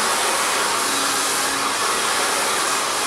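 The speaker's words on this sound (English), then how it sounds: "So laying the round brush on top and then blow drying down the hair strand." A hair dryer blows steadily while hair is stretch dried downward over a round brush, a loud, close, unbroken broadband roar lasting the whole time with no talking.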